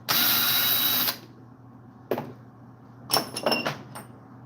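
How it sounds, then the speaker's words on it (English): Small screws are taken out of a chainsaw's cylinder cover: a loud whirring burst of about a second opens, then quieter gaps broken by a few sharp clicks and clattering metal taps. "Take out the small screws here."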